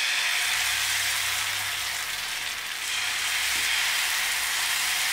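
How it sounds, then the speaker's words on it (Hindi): Wheat flour chilla batter sizzles on a hot pan, a steady, close hiss of frying that holds evenly throughout with no talk. "अब ये जो बैटर किया है हमने, घोल किया है आटे का, ये हम इसके ऊपर डालेंगे।"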